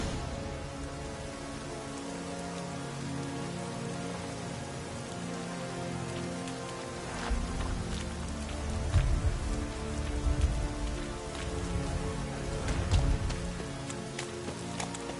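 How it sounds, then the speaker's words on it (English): Rain in the video game The Witcher 3: a steady, dense patter falling on surfaces, with soft low rumbles rising now and then midway through. "Looks like rain."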